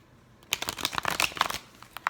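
A Lover's Tarot card deck being shuffled close up: a quick run of crisp riffling and flicking bursts for about a second and a half, then a few final taps, with no talking.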